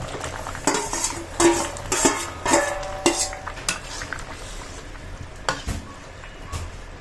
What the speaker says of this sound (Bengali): তরকারির মধ্যে এখন আমি জাল করে রাখা মাছগুলো দিয়ে দিলাম।